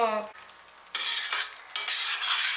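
Prawns in spicy chili gravy are stirred in a pan, a close scraping and sizzling stir that comes in two long loud sweeps after a brief pause, with no talking.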